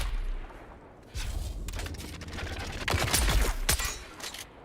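Gunfire in the video game Dune Awakening, rapid bursts of shots forming a dense, rumbling fusillade that swells and continues through most of the stretch, loud and without talking.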